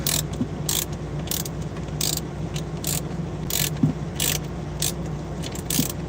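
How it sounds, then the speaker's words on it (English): Ratchet wrench turning out a screw on a bunk heater resistor in a truck cab, a steady run of quick metallic clicks in short bursts over a low constant hum. "Let's go ahead and unscrew this one here."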